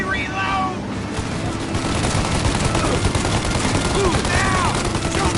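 A gunfire shootout in the Mafia Definitive Edition video game, dense continuous rattling of rapid shots and bursts filling the whole span, loud and busy, with faint shouted voices mixed in.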